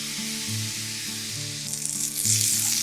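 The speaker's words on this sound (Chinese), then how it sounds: "油烧热至冒烟，浇上去" Smoking hot oil poured onto flour and five-spice powder in a bowl, a close, loud sizzle that grows brighter and hissier toward the end, with a steady background hum and no talk.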